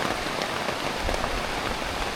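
Steady, dense rain drumming on a tent overhead during a mountaintop storm, a constant loud patter with no pauses.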